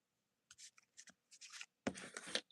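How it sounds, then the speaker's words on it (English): Playing cards being shuffled by hand, a run of short papery riffles and rubs in quick bursts, ending in a longer dense riffle, close and fairly quiet with no talk. "Let me shuffle these a little bit more."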